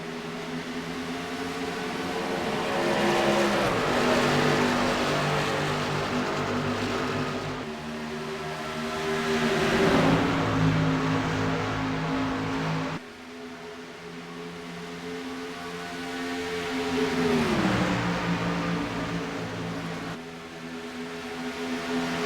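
Racing trucks in a game at Texas speeding up on a restart, layered engine drones that rise and fall in pitch as they pass in repeated waves, loud and steady.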